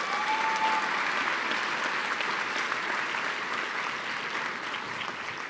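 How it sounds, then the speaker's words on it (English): A large crowd at a university graduate degree ceremony applauds steadily, a broad, even wash of clapping hands that holds at a moderate level throughout, with no voices standing out. "Please give them another round of applause."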